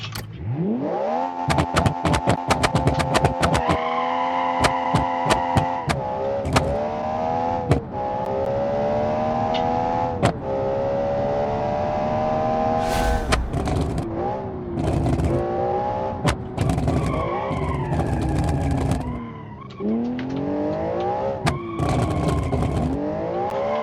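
A race car in a racing video game drives hard and drifts through corners, its engine a loud continuous whine rising and falling through gear changes, with sharp clicks and bumps scattered throughout.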